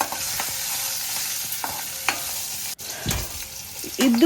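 Chopped green chillies, chana dal and mustard seeds are stirred in hot oil, with a close crackling sizzle, repeated spoon scrapes and a sharp knock partway through, and no speech.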